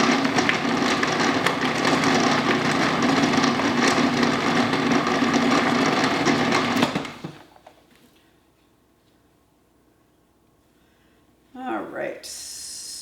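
A food processor with a standard blade chops frozen butter for sourdough biscuits, making a loud, harsh whirring grind for about seven seconds before cutting off. Silence follows, then a brief rustle near the end.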